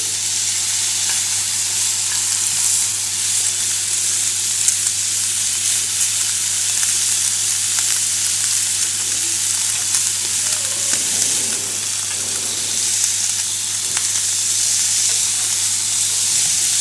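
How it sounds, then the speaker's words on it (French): Smoked duck breast strips sizzle steadily in a hot pan alongside abalone and foie gras, a constant close frying hiss with faint stirring near the middle. "on va rajouter nos lamelles de magret fumé"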